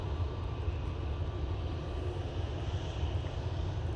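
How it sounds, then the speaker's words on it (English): An Air Transat Airbus A321neo on short final gives a faint, steady low engine rumble heard from a distance, constant with no talk. "We've got that 321neo coming in now on short final"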